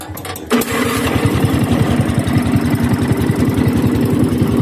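A small farm truck engine cranks briefly, then catches and settles into a loud, steady chugging idle with a rapid regular putter.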